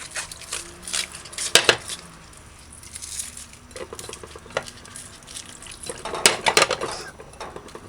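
Onion, garlic and other vegetables rinsed under a running kitchen tap, with a steady splashing patter of water punctuated by close clattering of bowls and dishes in the sink, no talking.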